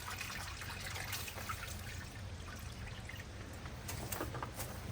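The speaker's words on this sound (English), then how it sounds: "I've got a bigger pot here now. I'm going to put some more water in it." Water pouring steadily into a bigger cooking pot at an outdoor cabbage roll cookout, a continuous splashing trickle, close and moderately loud, with no talking.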